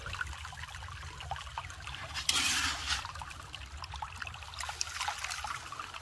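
Water trickles and splashes steadily through a gold prospecting sluice outdoors, with a louder gush of flow partway through and no voices.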